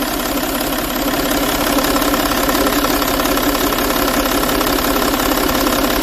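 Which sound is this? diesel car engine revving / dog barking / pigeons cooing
diesel car engine revving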